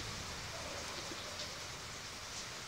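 Heavy rain pours steadily and loudly, a dense, unbroken hiss that fills the whole moment with no voices over it.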